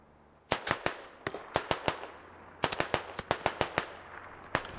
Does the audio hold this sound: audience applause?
no